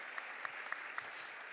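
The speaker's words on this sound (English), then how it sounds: "a huge round of applause for Sung Ho" A panel audience at a climate and democracy event applauds a panelist. The clapping is a steady, quiet wash of many hands, with a few sharper claps standing out at intervals.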